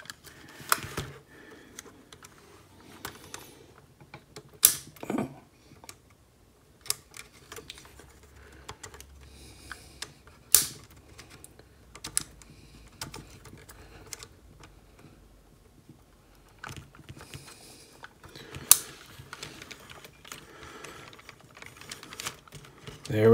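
Weijiang NE-01 plastic model parts being snapped and spring-locked together, heard as sparse sharp clicks and plastic knocks scattered at close range over low room noise, with no talk.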